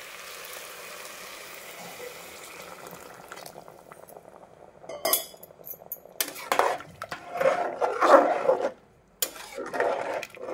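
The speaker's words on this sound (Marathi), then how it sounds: "आता आपण याच्यामध्ये गरम पाणी टाकून घेणार आहोत।" Hot water poured into a cooking pot of wheat khichdi, a hissing sizzle that swells into splashing, bubbling bursts with metallic pot clatter, moderately close and without talk.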